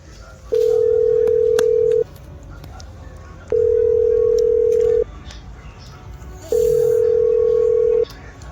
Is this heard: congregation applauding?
no